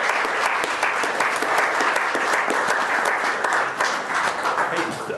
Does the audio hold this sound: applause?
yes